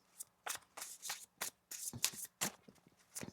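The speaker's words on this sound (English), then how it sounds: "One more shuffle." Tarot cards are shuffled close up in quick riffling bursts, about a dozen short rustling flicks in an uneven rhythm, quiet and alone without talk.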